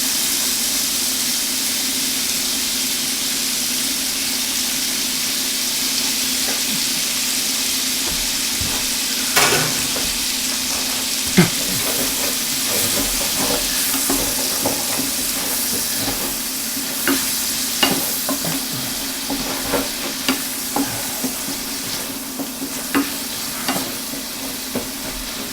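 Onions sautéing in a hot pan, ahead of chicken with sherry Dijon sauce, with a loud continuous sizzle and hiss, a low steady hum beneath, and repeated scraping clicks of stirring that grow more frequent in the second half.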